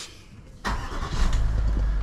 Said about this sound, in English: and start engine again.